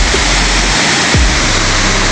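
The waterfall at Antogan, Banyuwangi, pours with a loud, steady, broadband roar of rushing water that fills the scene without a break.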